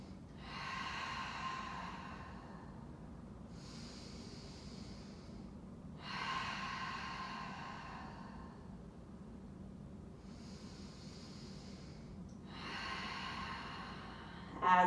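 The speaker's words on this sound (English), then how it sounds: "Take 3 deep breaths here." Slow, deep breaths during a yoga pose, heard as five long airy inhales and exhales in a steady rhythm, close to the mic over faint background hiss.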